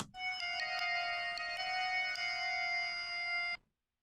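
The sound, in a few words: piano bell synth sound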